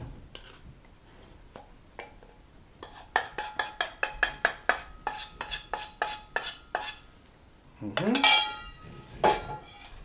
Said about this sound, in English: And then we just mix. We fold and we mix.